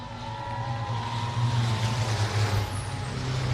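Semi trucks race past on the high-banked oval at Salem Speedway, a loud continuous engine roar with a rising and falling pass, a brief whine near the end and no voices.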